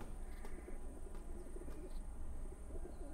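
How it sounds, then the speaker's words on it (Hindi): Messenger pigeons coo softly in a historical drama scene, low repeated murmuring calls over a quiet steady background. "ये पैगाम रसाने वाले कबूतर हैं"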